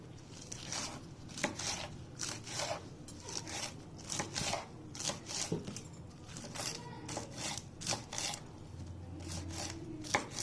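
A knife chops leafy greens (keerai) on a board in quick uneven bursts, crisp close cuts through leaves with brief pauses between strokes.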